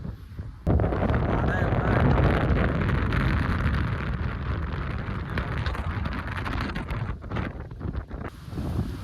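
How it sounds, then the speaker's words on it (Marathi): Strong wind at Salwa Beach, Qatar, roaring heavily and continuously across the microphone, loud and close for several seconds with gusty swells and buffeting. "खूप आता आवाज येत असेल. ते वारा एवढा आहे ना"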